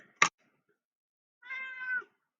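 A domestic cat gives a sharp short cry followed by a longer, clear meow, both close and loud against a quiet room.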